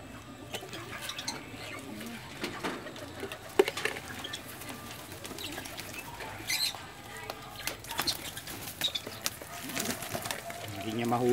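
Breeding pigeons shuffle and coo softly in a loft, with faint flutters and scattered knocks against a low background, while someone talks intermittently.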